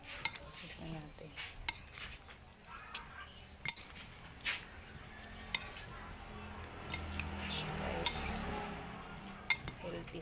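Utensils tossing a fresh ensalada with kalamansi in a bowl, repeated light clinks and scrapes of metal on dishware at an irregular rhythm, close and fairly quiet.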